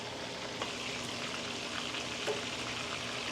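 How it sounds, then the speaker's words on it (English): Buffalo and barbecue sauce simmering together in a pan for chicken wings, a steady soft sizzle and bubbling with scattered faint pops, heard alone. "sauce is starting to bubble"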